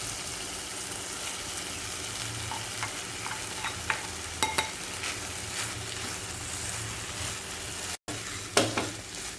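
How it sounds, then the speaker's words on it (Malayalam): Cooked rice stirred into tomato gravy in a pan for Kerala-style tomato rice, a steady soft sizzle under faint scraping with a few brief clinks of the spoon, close and fairly quiet throughout. "ഇതെല്ലാം നന്നായിട്ടൊന്ന് മിക്സ് ചെയ്തെടുക്കാം"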